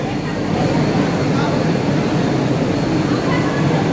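An air-conditioned ICF Medha EMU local train on the Sealdah-Ranaghat line runs at speed, giving a steady, loud rumble and rushing roar throughout with no break.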